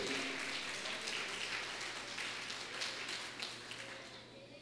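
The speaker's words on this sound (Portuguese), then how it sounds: "Aplauda Jesus" Crowd applause and clapping in a large room during a church sermon, steady and fairly loud, fading slightly toward the end.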